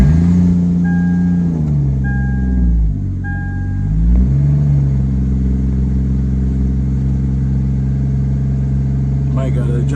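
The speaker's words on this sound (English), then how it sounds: "Might gotta adjust that idle, still a little high. It is a cold start though" A Lexus IS300 fitted with a 2JZ engine idles shortly after a cold start, a steady, fairly high droning rumble with a brief dip in pitch partway through, while a person talks over it.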